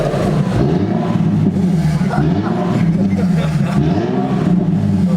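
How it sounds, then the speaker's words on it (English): A loud, close Infiniti G37 engine runs at steady mid revs with a rough, throaty exhaust drone through an open electric exhaust cutout, a voice talking over it. "Rev it a little bit"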